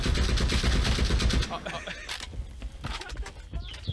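Gunfire in a shooter video game: loud, dense bursts of rapid shots for the first second and a half, then quieter scattered shots and mechanical clatter while players talk over it.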